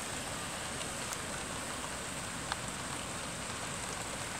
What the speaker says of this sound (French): pour l'instant, c'est de la pluie